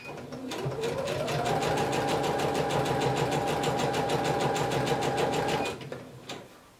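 A sewing machine stitching fabric runs in a fast, even, rapid-fire clatter for several seconds, close and loud, before slowing and stopping.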